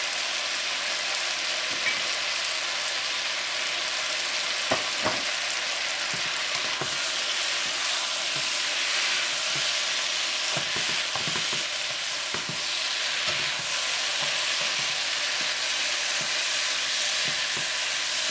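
Beef, tofu, onions and cilantro stir-fry in a hot pan with a long, steady sizzle, broken by repeated scrapes and taps from a utensil.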